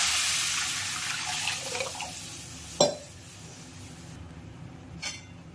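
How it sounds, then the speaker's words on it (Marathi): Water is poured from a small pot onto washed, soaked rice for chicken dum biryani. A steady splashing pour fades away, followed by a couple of sharp clinks near the end. "आपण यात 1 तांब्याभर पाणी टाकायचं."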